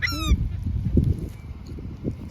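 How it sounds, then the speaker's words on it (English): Seagulls calling while being fed in Florida, a loud harsh honking call up close at the start followed by quieter squawks and fluttering. "Seagulls."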